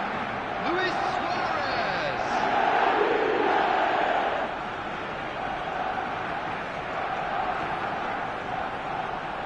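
A large football stadium crowd at a Barcelona match roars and cheers steadily, a dense sustained wall of noise that swells and then settles slightly, with no distinct voices standing out.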